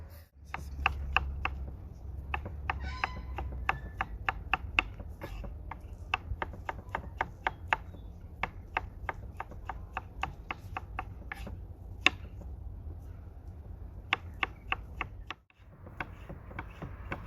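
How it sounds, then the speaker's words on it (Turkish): Lemons with some peel left on are thinly sliced with a knife on a cutting board, a long even run of crisp, close chopping taps in a quick steady rhythm with a short pause near the end. "hafif kabuklu bıraktığımız limonları tıraşlıyoruz arkadaşlar"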